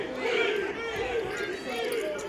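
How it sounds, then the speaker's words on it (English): Crowd at a poker tournament final table chanting in unison, a rhythmic repeated group voice with overlapping chatter, loud and continuous. "And the crowd is chanting queen."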